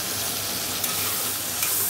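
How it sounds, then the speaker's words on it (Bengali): Potatoes fry in hot oil in a Bengali kitchen while a jackfruit-and-prawn curry is being made, giving a steady, close, dense sizzle with faint stirring scrapes and no voices. "এবার আলুটা ভেজে নিচ্ছি।"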